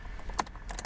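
Keys jangle faintly and briefly as a key is pushed into the ignition of a 1979 Ford Mustang, a few quick metallic clinks close by.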